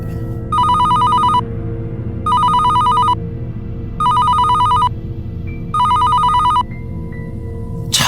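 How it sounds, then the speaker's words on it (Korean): A telephone bell rings in four evenly spaced bursts, loud and close, with a steady low hum in the background between rings. "2층 카운터 쪽에서 전화벨 소리가 났다고 했다"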